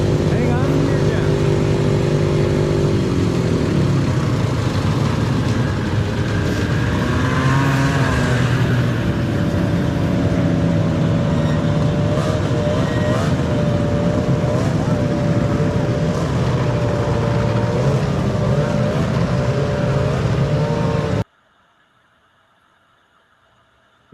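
Several vintage snowmobiles drive past one after another, loud, close engine roars rising and falling for about twenty seconds before cutting to near silence.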